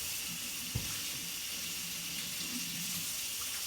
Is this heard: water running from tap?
yes